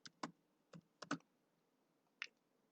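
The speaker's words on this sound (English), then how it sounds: "I can just simply type in whatever I want" A computer keyboard is typed on in a few soft, close keystrokes, irregular taps with brief pauses in an otherwise quiet room.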